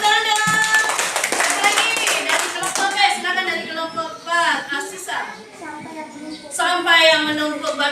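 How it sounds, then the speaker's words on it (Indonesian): A classroom of students clapping together, a dense burst of applause with children's voices and chatter mixed in, loud and close throughout. "Tepuk tangan dong"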